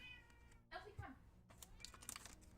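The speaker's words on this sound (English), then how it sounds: "they will meow the entire stream." Pet cats meowing in a room, a few short cries under ongoing talk, with light keyboard-like tapping in the background.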